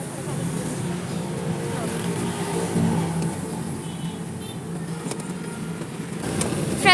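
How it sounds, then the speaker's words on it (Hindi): Heavy road traffic on a cold, smoky day near a hospital, a steady broadband engine rumble and hiss of passing vehicles throughout, fairly loud and continuous, with a faint voice in the mix. "आप देख सकते हैं बहुत ज़्यादा ट्रैफिक है"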